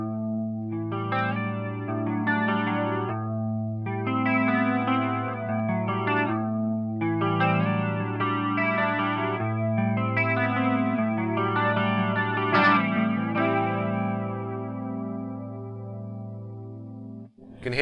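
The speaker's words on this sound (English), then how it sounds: "the flanger on the slowest part just here" A sustained distorted guitar through a Marshall MG100FX amp plays held notes and chords while its flanger at the slowest rate makes the tone whoosh and swirl gradually throughout.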